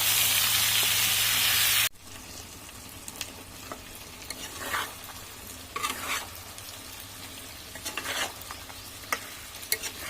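Meat with turmeric and spices is stirred and fried in a pan, with a steady sizzle and scraping stirs. The clip opens with a brief loud hiss, and then the frying settles into a softer crackle.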